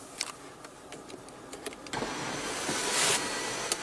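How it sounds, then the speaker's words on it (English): Sunroof motor in a 2015 Ford Fusion with a 2.0-litre turbo four-cylinder, a steady electric whir that swells in the cabin over about two seconds after a few faint clicks, with no talking. "Your sunroof and your sunroof controls."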